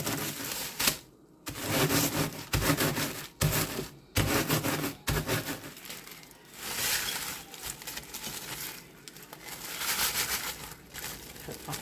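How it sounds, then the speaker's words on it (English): A rolling pin crushes cookie or cracker crumbs for a dessert base, giving repeated crunchy, crinkling rolls in uneven bursts, close and fairly soft, with no talking. "I'm using the rolling pin to get a finer crumble."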